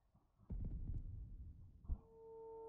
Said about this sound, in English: We can hear his heartbeat.